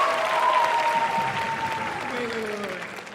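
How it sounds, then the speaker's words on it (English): An audience applauds a celebrity guest at a college cultural show, a dense, sustained wash of clapping that fades slightly toward the end, with voices mixed in. "Can we get a round of applause for our celebrity guest star?"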